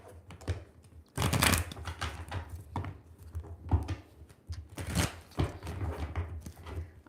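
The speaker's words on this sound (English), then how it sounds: "So let me just shuffle." Tarot cards being shuffled in several bursts of riffling and slapping, close by, separated by short pauses with no talking.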